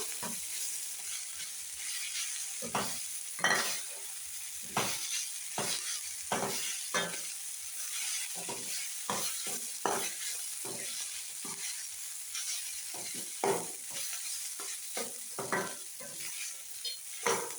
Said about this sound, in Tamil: கொஞ்சம் நல்லா கிளாரி வச்சுக்கலாம், ஒரு 5 நிமிஷத்துக்கு கிளாரி வைக்கலாம்